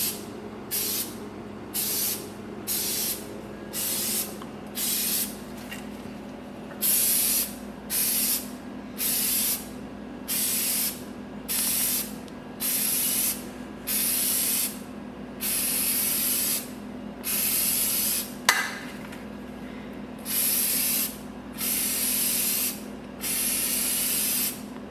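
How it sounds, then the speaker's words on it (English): Aerosol can of K&N air filter oil sprayed onto an air filter in repeated short bursts, about twenty hissing sprays in a steady rhythm, close and clear with a low background hum between them. "use the air filter oil. You want to spray and lather it on, and make sure you do it on all the sides."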